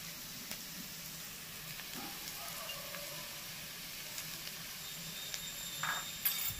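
Chicken keema rice sizzles softly in a pan while being stirred, a low, steady frying hiss with a few faint scrapes and clinks of the spoon close by, no voices.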